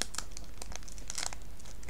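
A Pokémon Surging Sparks booster pack being torn open, with continuous crinkling and crackling foil wrapper through the whole stretch, close and fairly loud, with no talk.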